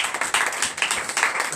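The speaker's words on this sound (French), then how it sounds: "Donnez l'acclamation à Jésus." A church congregation at a morning prayer service in Benin claps and acclaims Jesus, producing a dense, steady wash of many hands clapping close by, with slight swells throughout.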